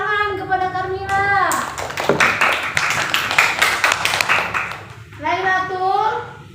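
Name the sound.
classroom clapping for a student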